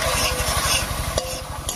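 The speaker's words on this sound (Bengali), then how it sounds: "এবার এর মধ্যে দেব 3-4টে চেরা কাঁচা লঙ্কা।" Slit green chillies dropped into spice paste sizzling in a pan, a dense continuous fry with a rapid regular scraping rhythm and one brief sharp clink near the middle, close and loud.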